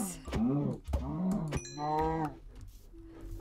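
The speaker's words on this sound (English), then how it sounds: "Cow." A Minecraft cow moos several times in a row: drawn-out, wavering bellows close and clear, ending with a short lower tone.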